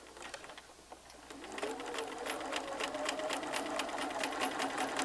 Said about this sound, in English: Let your machine guide the fabric.